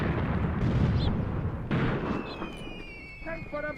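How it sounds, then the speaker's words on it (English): Mortar fire in the WWII tactics game Graviteam Tactics Mius Front thuds in two heavy rumbling blasts, then fades into a quieter battlefield backdrop with high whistling tones and scattered faint pops. "I love our mortar softening up the area as our infantry moves in."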